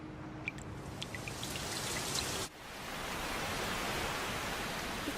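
Heavy rain pours in a dense, steady hiss with scattered drip hits, a brief dip midway before the downpour continues, and no voices.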